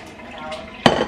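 Cooking pots being hand-washed in a kitchen sink, with a soft scrape and then a sharp metallic clank as one pot knocks against another, ringing briefly over faint running-water noise.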